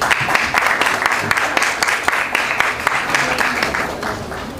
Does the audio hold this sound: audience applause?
yes